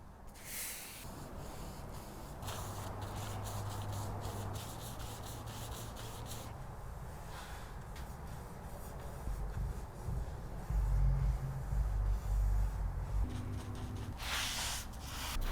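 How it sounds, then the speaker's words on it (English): A brush or applicator rubs finish across a wooden tabletop with soft, continuous swishing strokes, close and quiet, with no talk. "let's coat this tabletop"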